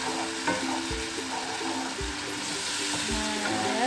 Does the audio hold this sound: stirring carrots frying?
yes